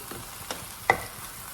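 Food frying in a pan being stirred, soft scraping strokes and a sharper clack of utensil on the pan over a faint low sizzle, close by.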